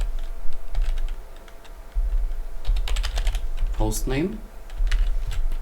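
Keys clatter on a computer keyboard as login details are entered, the clicks coming in quick bursts with a short spoken phrase partway through.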